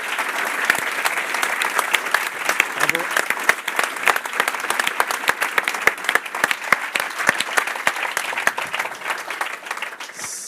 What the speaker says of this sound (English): J'aimerais qu'on applaudisse encore une fois nos deux conférenciers